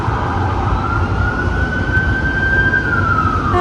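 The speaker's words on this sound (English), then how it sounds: "And lovely sirens for good measure." An emergency vehicle siren in New York City sweeps slowly upward, fairly loud but somewhat distant, over constant low street and traffic rumble heard from a balcony.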